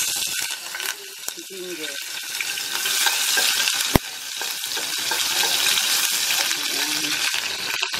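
Garlic frying in oil in a pan, a steady close sizzle with crackling and occasional stirring clatter, one sharp knock midway, continuing throughout.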